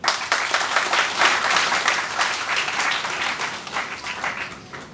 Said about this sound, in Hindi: तालियां बजाएं इस पे आप